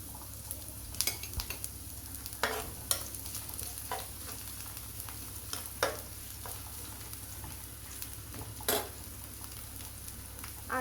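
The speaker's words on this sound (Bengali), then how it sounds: "ফ্রাই প্যানে তেল গরম করে নিয়েছি, এখানে কিছু রসুন আর কিছু পেঁয়াজ অ্যাড করে দিচ্ছি।" Garlic and onion sizzling in hot oil in a frying pan, a steady crackling fry with occasional clinks and scrapes of a utensil stirring, close and alone without talk.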